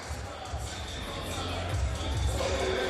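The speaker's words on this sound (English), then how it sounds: "It's a great little crowd starting to build here on the Wednesday afternoon in Pukekohe" A small crowd gathers in a gym in Pukekohe on a Wednesday afternoon for a Franklin Bulls versus Canterbury Rams basketball game. Steady low murmur and shuffling fill the hall, with no single voice standing out.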